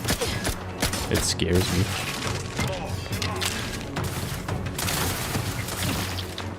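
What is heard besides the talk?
SMG gunfire in The Outer Worlds 2 video game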